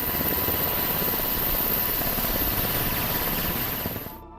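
An AH-64E Guardian Apache attack helicopter: a steady, loud rotor and engine drone with dense rhythmic blade chop, continuous for about four seconds before cutting off abruptly.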